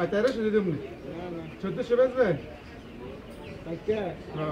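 Pigeons coo in soft, repeated throaty phrases nearby at a pigeon market in Bangladesh, mixed with other voices and background chatter.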